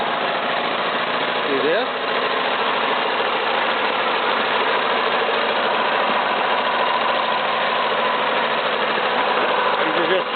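A British Seagull outboard motor runs steadily and close by for the whole stretch, its buzzing engine note holding level with a brief rise near the start, while someone talks over it.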